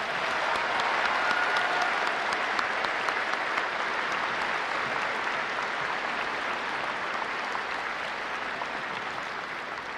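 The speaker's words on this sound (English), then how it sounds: "A big round of applause for Megan." Sustained applause from a large audience at a high school graduation ceremony at Hofstra University, a dense steady clapping that fills the hall and slowly tapers over ten seconds.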